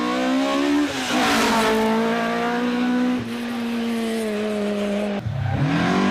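A Ford Escort Mark II rally car charging flat out through a bend at a Carlow rally stage, its engine howling loudly at high revs with a rising then falling pitch, a brief gear change, and a final lift as it passes.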